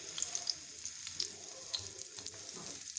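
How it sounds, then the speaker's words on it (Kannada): Two chopped small onions frying in about one and a half spoons of oil in a small pan on a stove, a steady soft sizzle with faint crackles throughout, no voices. "ಇದಕ್ಕೆ ಕಟ್ ಮಾಡ್ಕೊಂಡಿರೋ ಅಂಥ 2 ಚಿಕ್ಕ ಈರುಳ್ಳಿನ ಹಾಕ್ಕೊತಾ ಇದ್ದೀನಿ."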